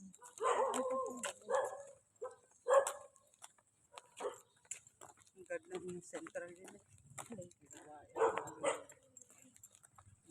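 Several dogs bark and yip in short bursts, fairly close, while people talk over them, outdoors during a jog along a sandy beach area in Batangas, Philippines.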